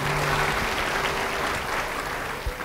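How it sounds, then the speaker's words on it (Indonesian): Church congregation applauding during a sermon, a steady wash of many hands clapping at moderate volume, continuous and even, with a faint tone and a soft thump near the end. "Beri tepuk tangan buat Tuhan."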